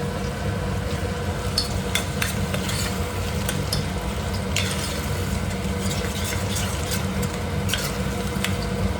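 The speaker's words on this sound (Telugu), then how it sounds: "అల్లం వెల్లుల్లి పేస్ట్ కూడా మంచిగా వేగిపోవాలి" Ginger garlic paste frying in a pan for mutton curry while being stirred, with a steady soft sizzle and scattered scraping clicks of the spoon, fairly quiet and without talk.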